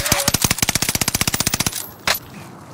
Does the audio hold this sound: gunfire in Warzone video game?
yes